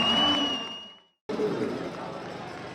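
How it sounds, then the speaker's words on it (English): Crowd at an ultimate frisbee championship game roaring, the noise breaking off abruptly partway through and then resuming as a broad wash of cheering and chatter. "The crowd goes wild."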